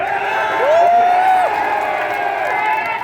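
A crowd at a political meeting in Mandwar for chairman Aasif Shaan cheers loudly, with a long rising whoop or whistle above the steady roar of voices.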